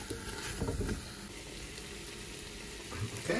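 Fresh tomato and pasta sizzle and fry steadily in a pan, a continuous close crackle with a few louder stirring bursts and no voices.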